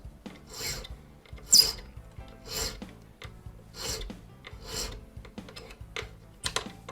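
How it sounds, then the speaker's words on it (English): Hand file rasping across the end of a brass taper pin held in a pin vise during restoration of an 1837 Japy Freres French Napoleon mantle clock; about six steady rhythmic strokes, close and crisp, with no talking. "resting the end of the taper pin in one of the grooves, we file the end flat"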